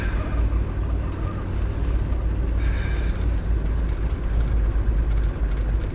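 A Mercedes diesel engine, which has been suffering from dirty fuel, runs at a steady idle close by with a low, constant rumble that fills the whole stretch.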